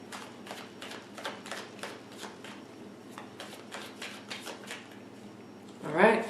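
A deck of tarot cards is shuffled in quick repeated riffles and taps, close and fairly quiet, ending in a brief louder rustle.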